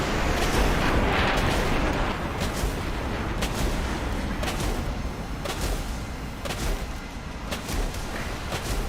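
Aircraft gunfire in the War Thunder video game: dense, sustained rumbling bursts with sharp repeated cracks, loud and continuous throughout, no talking.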